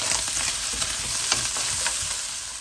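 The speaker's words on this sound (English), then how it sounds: "To that I'll add in my ginger, garlic, and chili paste and give it a nice mix." Lamb fried rice, Fiji Chinese style, sizzles steadily in a hot pan as ginger, garlic and chili paste are stirred in, the loud continuous frying broken by scraping stir strokes.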